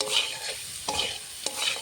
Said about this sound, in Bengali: পুঁই শাকের ফল আর কিছুক্ষণ সময় ভেজে নেব